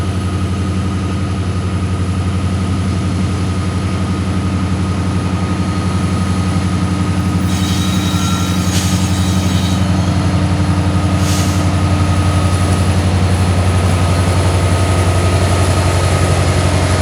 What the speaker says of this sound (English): in time to see an eastbound UP manifest coming from Englewood and going towards Livonia